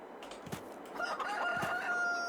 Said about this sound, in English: Look at that beautiful rooster.